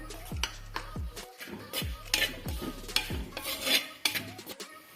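Turmeric and other spice powders roast in a pan for fish curry, with a utensil scraping and stirring in repeated strokes over a soft, steady sizzle, close by.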